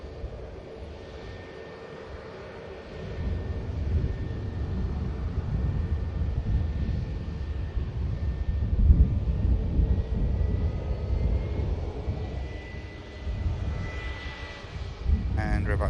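British Airways passenger jet taxiing at Manchester Airport, a steady low engine rumble and whine held throughout at moderate distance, with a voice talking over it.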